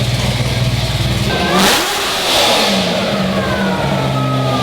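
A supercar engine with its exhaust opened up revs hard and loud up close, a rumbling roar swelling and dropping in pitch, with no talking.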